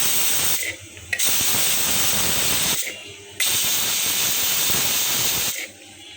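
A pressure cooker cooking beef trotters for nihari whistles and vents steam in a loud, continuous hiss, broken by a few brief dips before the jet surges again.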